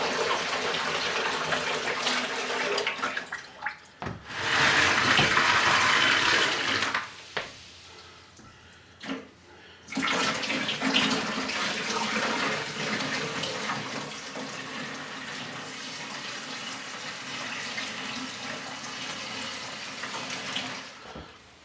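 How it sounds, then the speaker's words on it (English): Reverse osmosis water pours steadily into a 45-gallon jellyfish aquarium, filling its back chamber. The flow gushes loudly at times, pauses briefly, and settles into a continuous splashing rush near the listener. "I pour some into the back chamber too to keep the water pressure even"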